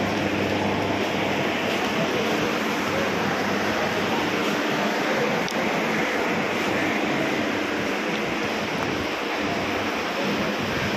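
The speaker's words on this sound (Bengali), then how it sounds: "দেখো এই হচ্ছে আমাদের ট্রেনের চারপাশের পরিবেশ।" A running train in Kolkata gives off a steady, loud, continuous rumble and hiss that fills the surroundings without a break.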